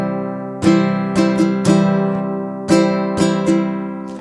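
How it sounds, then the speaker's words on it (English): A guitalele strums a steady pattern of down, down, down, up, down, down, down, up over a single held chord, the bright nylon strokes close and loud with ringing sustain between hits. "So the strum pattern is going to sound like this."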